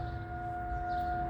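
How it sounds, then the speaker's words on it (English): A civil defense siren sounds during a yearly tornado siren test, a steady sustained wail carrying from a distance, faint and alone with no voices over it. "They used to call them civil defense sirens"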